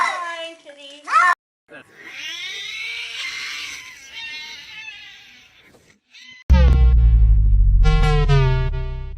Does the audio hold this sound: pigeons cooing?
no